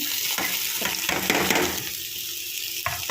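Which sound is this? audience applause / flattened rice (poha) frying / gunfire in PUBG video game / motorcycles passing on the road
flattened rice (poha) frying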